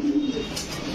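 A silver bezi pigeon gives a short, close, low throaty coo lasting about a second, clear against a quiet background.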